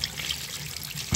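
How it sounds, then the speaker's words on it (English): A small trickle of water leaks out, a brief soft splashing and dribbling that sounds close and faint, ending in a low thump. "there's a little trickle leak."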